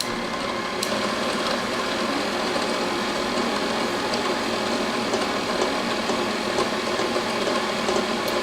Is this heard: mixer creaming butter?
yes